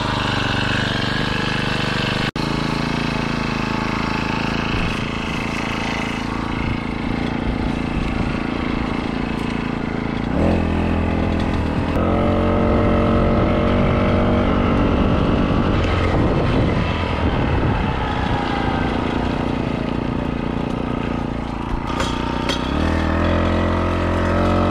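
A Golden Eagle motorized bicycle engine runs steadily with a buzzing, droning two-stroke note that swells and revs briefly partway through before settling back, close and loud throughout with no talking.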